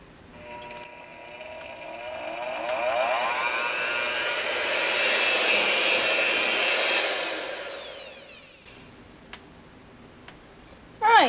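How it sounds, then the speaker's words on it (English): An electric hand mixer beats egg whites to stiff peaks for a low-carb cake roll: a close, steady whirring whine swells over several seconds, holds, then cuts off, leaving a quiet room with a few small clicks. "I'm just going to beat these until they're fairly stiff."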